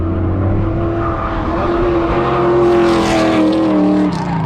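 A drifting car's engine roars loudly and steadily at Thunderhill, its pitch rising and falling as it is revved hard, with a faint tire hiss near the end.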